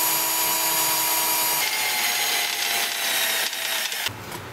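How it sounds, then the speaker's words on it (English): A power drill runs steadily through a hole, a continuous buzzing grind that shifts partway and cuts off near the end. "Drill the hole."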